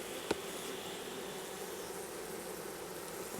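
Honeybees at an opened nucleus hive give a steady, even buzzing drone that stays constant throughout, with one sharp click near the start.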